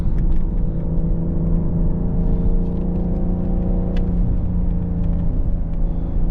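A BMW M760i V12 luxury sedan driving on curvy, slippery roads, heard as a steady deep engine rumble and whir from inside the car, continuous with no talking.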